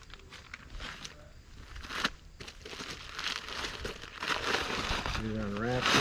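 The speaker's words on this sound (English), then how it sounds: "Get it unwrapped here." A fabric ATV cover is pulled from its case and unwrapped, with close crinkling and rustling of material and a few handling thumps, plus someone talking over part of it.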